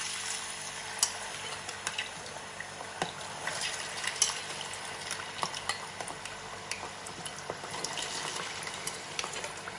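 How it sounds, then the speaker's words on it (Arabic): Diced potatoes, peeled and cut into small cubes, fry in hot oil with a steady broadband sizzle and crackle, punctuated by scattered sharp pops and occasional utensil clinks, continuous and close throughout. "هلأ بدي اقليها انا وياكم بالزيت الحامي"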